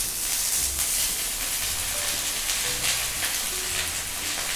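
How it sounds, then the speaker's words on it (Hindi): Pea peels sizzle and crackle in hot oil in a wok, a close, steady frying hiss with dense popping and occasional soft stirring scrapes, no talking. "यहाँ पे कढ़ाई में थोड़ा तेल लेके भून लेते हैं"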